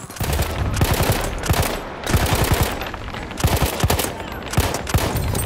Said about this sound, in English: Okay, that was a lot of bullets.